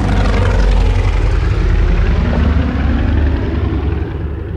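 Luftwaffe propeller aeroplanes drone loudly and steadily overhead during wartime, a heavy continuous engine roar that slowly fades toward the end.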